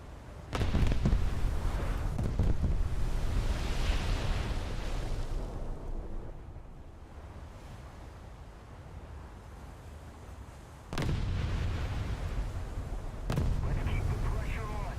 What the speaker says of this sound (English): Those are secondary guns, I believe.